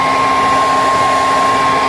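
A hair dryer blows steady hot air onto the oil pan of a plow vehicle on a cold day, a loud, unbroken whine with a constant pitch held close.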